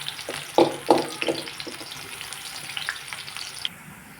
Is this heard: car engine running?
no